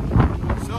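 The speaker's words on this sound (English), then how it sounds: "Very windy here." Strong wind buffets the microphone at Lake Arenal in Costa Rica, a steady low rumble with gusts rising and falling, close and loud throughout the brief moment.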